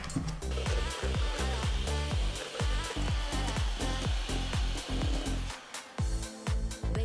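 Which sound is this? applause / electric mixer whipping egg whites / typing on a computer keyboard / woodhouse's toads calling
electric mixer whipping egg whites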